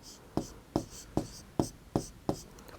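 A pen or chalk writes numbers in a lesson, giving six evenly spaced taps and scratches close by over a few seconds.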